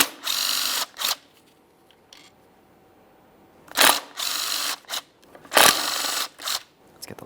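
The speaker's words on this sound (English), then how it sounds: "I'm going to start removing each of the 4 bolts that are holding the throttle body to that intake." Power tool or ratchet bursts loosening four 8mm bolts holding the throttle body to the intake manifold of a 2013-2020 Ford Fusion 2.0L I4, several short loud whirring bursts separated by pauses.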